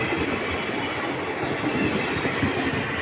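Kalka passenger train rolling steadily along the rails, a continuous loud rumble with faint clickety-clack from the wheels and no voices.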